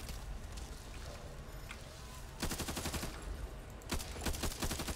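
Gunfire in the zombie shooter Back 4 Blood: rapid automatic bursts crackle out in two fast volleys over a steady low game rumble, fairly distant and moderately loud.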